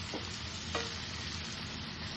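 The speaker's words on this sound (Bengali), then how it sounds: "কালারটা আসার জন্য অল্প নুন দিয়ে দিচ্ছি, দিয়ে একটু লাল করে ভেজে নেব" Jackfruit seeds fry in oil with a little salt, a steady broadband sizzle running throughout with a soft stirring scrape near the start, close and even in level, no voices.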